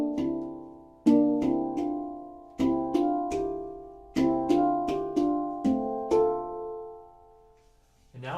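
Acoustic guitar playing a chord progression in plain fingerpicked style, a series of ringing plucked chords struck one after another with sustained decays, close and clear with no voice.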